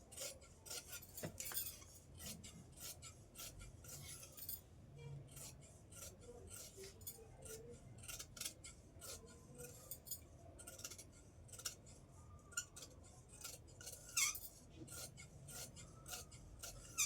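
Scissors snip through blouse fabric while it is cut for a boat-neck blouse, a steady run of quiet crisp clipping strokes with faint rustling of cloth, close and soft, with no talking.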